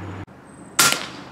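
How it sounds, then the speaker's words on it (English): A single sharp report from a Griffin .22 caliber rifle firing an LDC slug, close and loud, with a bright burst and a short decaying tail after a quiet lead-in. "I always suspect the first shot to be maybe a little bit different."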